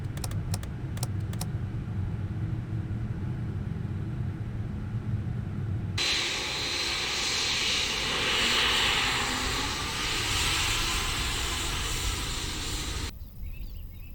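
An airliner's engines drone loudly in a flight simulator game on a flight from San Francisco to Papeete, after several seconds of keyboard typing over a low hum. The broadband roar holds steady, then cuts off abruptly near the end.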